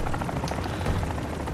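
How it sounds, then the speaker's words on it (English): Loud, steady rotor thump of a helicopter in the video game Modern Warfare 2 DMZ, close and continuous throughout the short stretch, with no voices over it. "Chopper, right?"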